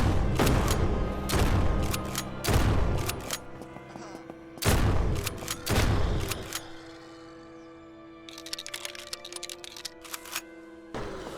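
An AR-15 rifle and a shotgun fire in the game SurrounDead, with loud clustered bursts of shots, rapid strings and single heavy blasts separated by brief pauses, tapering to lighter scattered shots near the end.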